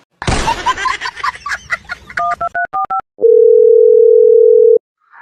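A telephone call gives a short burst of rapid keypad dialing beeps, then a steady, continuous dial tone that holds for over a second and cuts off abruptly. Brief indistinct sounds come before the dialing.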